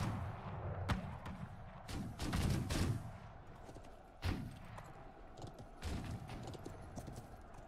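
Musket volleys in the medieval battle game Conqueror's Blade, several loud cracking shots in clusters over a low battlefield rumble, with horse hooves and distant clatter mixed in.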